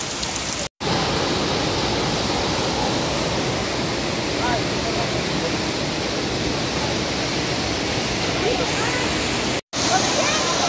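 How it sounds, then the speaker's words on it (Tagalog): A small waterfall of cold, fresh spring water pours steadily, a dense, continuous rushing roar heard up close and fairly loud throughout, with two very brief dropouts. "Yan na po yung falls niya"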